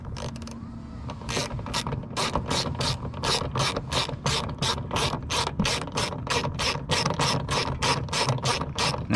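A hand ratchet works on a broken door handle inside the door of a GMT800 Chevrolet/GMC truck, giving a steady run of about twenty sharp, evenly spaced clicking strokes, close and loud, with no talking.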